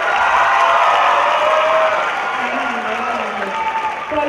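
Audience applause and cheering in a room as listeners vote for a student services presenter, steady and loud throughout, with voices and shouts mixed into the clapping.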